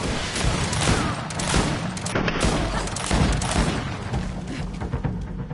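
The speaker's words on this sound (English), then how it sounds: "Watch out! Grenade!" A grenade explodes amid fighting in the video game GreedFall: loud overlapping booms and gunfire-like bursts rumble steadily throughout the short stretch, with no speech over them.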